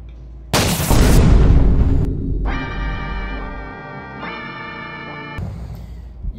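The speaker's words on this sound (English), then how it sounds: "We should shoot ourselves." A shotgun blast in Roblox Buckshot Roulette, one loud close boom that decays over about a second, followed by a sustained buzzing tone, with no talking.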